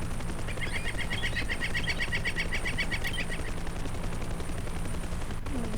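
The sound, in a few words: helicopter flying, from a video game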